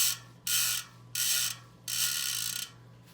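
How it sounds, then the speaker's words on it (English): Boyd Cycling 85 rim-brake road hub with through-axle design, its freewheel ratchet spun in three separate bursts of loud, dense, rapid clicking buzz, each about half a second to a second long, over a steady low hum. "the engagement is pretty sweet. I mean, you hear how that sounds"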